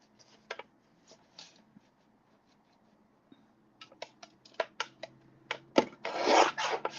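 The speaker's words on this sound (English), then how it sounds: "Now I'm just going to trim this off a bit on the one side." Quiet snips and rubbing as the edge of a paper card is trimmed on one side, scattered short cuts growing denser and louder toward the end.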